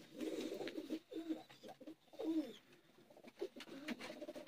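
Soft, throaty cooing from a Sialkoti-breed Neel Dumba pigeon, repeated coo phrases rising and falling at close range in a quiet setting.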